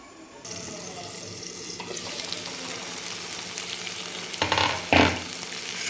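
Steady sizzling of eggplant frying in a pan, with a couple of louder scraping stirs near the end; no voices.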